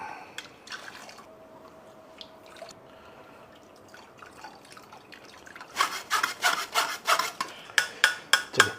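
Chicken yakhni (stock) for Lucknow chicken biryani is strained close by: a quiet stretch with faint drips, then a run of quick, rhythmic rubbing and scraping strokes through the strainer, growing louder toward the end.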